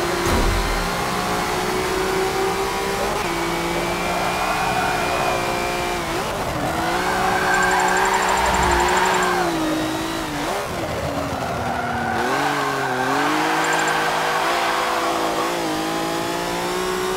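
Racing car engine from Forza Motorsport 7, driven as a Volvo, droning loudly and steadily throughout with rising and falling revs, gear-change dips and tire squeal as the car slides through corners.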